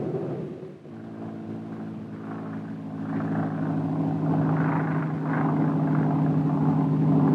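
A chartered aerial survey airplane in flight at daybreak in 1961. Its steady propeller-engine drone swells slightly louder partway through and keeps a droning tonal hum to the end.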